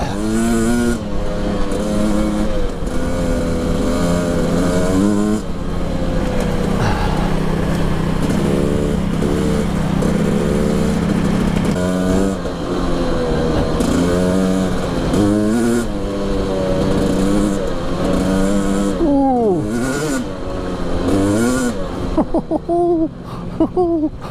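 A Husqvarna TE300i two-stroke dirt bike rides offroad, its engine loud and close with repeated revving and pitch sweeps as the throttle opens and closes, continuous throughout.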